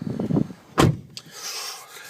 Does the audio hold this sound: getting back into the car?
yes